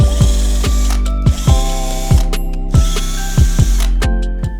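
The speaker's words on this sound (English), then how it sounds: "Now let's remove those 6 hex screws from your rim. You can also use your hex key, but it's not as effective as an electrical screwdriver." An electric screwdriver backs out hex screws from an electric scooter's wheel rim, loud close-up bursts of ratcheting, clicking whir in a repeated start-stop rhythm, several short runs one after another with no speech.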